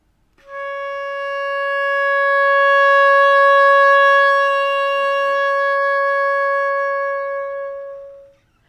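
An oboe holds one steady, sustained long tone for about eight seconds, clear and close, with a rich, reedy overtone stack, a clean start and a smooth release, played alone.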